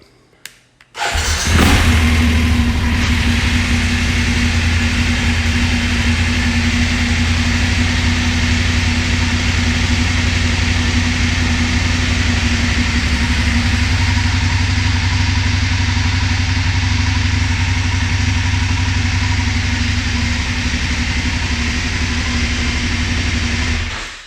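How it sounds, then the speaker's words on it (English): A BMW 850GS motorcycle engine cranks and fires after a quiet moment, then settles into a loud, steady idle with a constant low hum that holds close by for the rest of the time. "the bike has to be running to show you this, so let me start it up"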